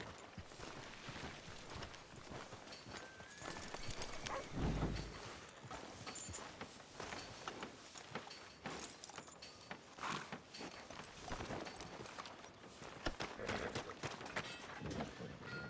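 A horse's hooves clip-clop at a walk in Red Dead Redemption 2, soft and fairly faint, with steady light steps mixed into busy town ambience and brief clatter.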